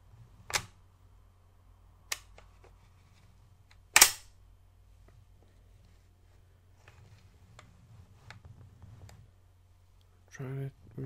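An airsoft gun's bolt is worked close to the microphone, giving a few sharp isolated clicks and clacks spaced across a quiet background, with one louder snap in the middle and a brief rattling burst at the end.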